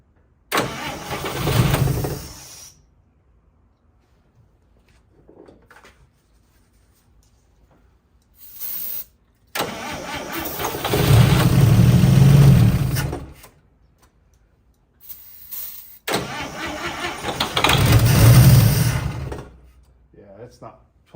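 A 1955 Chevy engine, parked for 40 years, cranks in three long bursts separated by silences, the last two catching and running roughly for a few seconds before dying, loud and close.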